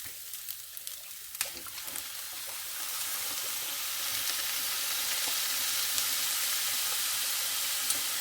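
Sausage fried rice with soy sauce fries in a pan, giving a soft hiss that builds and steadies into a continuous sizzle. A few faint clicks and taps sound near the start.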